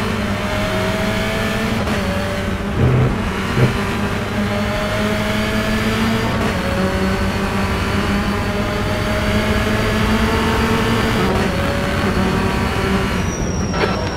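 A BMW 330i Sport touring car races around Croft in the rFactor2 simulator, its engine droning loud and close with brief dips at gear shifts and a steady, high-revving whine.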